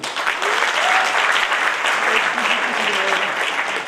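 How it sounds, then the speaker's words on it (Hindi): A crowd at a success celebration event in Hisar, Haryana claps in steady, full applause, close and continuous, with faint voices mixed in underneath. "तालियां बजा सकते हैं।"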